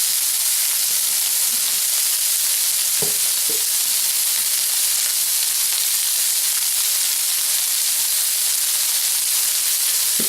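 Szechuan peppercorns and peppers frying in a pan, a loud, constant sizzle with a couple of brief pops and clicks, no voices.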